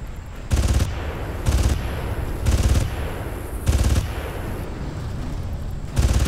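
Weapon fire in the video game Far Cry, heard as six loud bursts of gunshots spaced about a second apart, over a steady background of game ambience and music.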